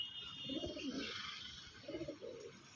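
Pigeons offered at a pigeon sale in Uluberia coo softly in two short, low, murmuring bouts that sound somewhat distant against a faint background hiss.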